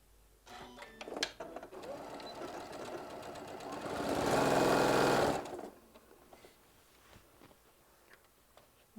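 A sewing machine runs at a steady 1/4 inch setting, stitching fabric in a quilting class, with a loud continuous whir building toward the middle before stopping, close by with no talking.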